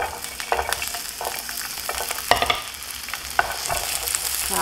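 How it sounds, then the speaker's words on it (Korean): Onion stir-fries in a little oil in a pan over medium heat, giving a close, bright sizzle with frequent scraping and clacking stirs throughout and no speech. "자, 가장 먼저 양파 볶아줍니다"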